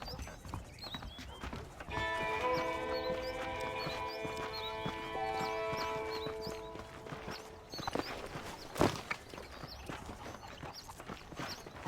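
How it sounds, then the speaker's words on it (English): Horses clip-clopping at a walk in a Western video game, steady hoof beats over a sustained musical drone, with a whinny and snorts breaking through near the end. "The horses are saddled up over here."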